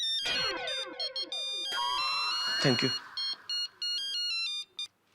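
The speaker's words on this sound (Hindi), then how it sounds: "किसी का फोन बज रहा है।" Mobile phone ringtone ringing indoors: a loud electronic melody of repeating tonal phrases and rising sweeps that cuts off near the end, with a brief spoken reply at the close.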